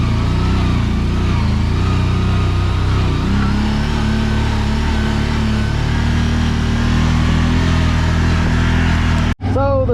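A brand-new 2023 CFORCE Overland side-by-side runs with a steady mid-pitched engine drone and slight shifts in revs, loud and continuous for about ten seconds.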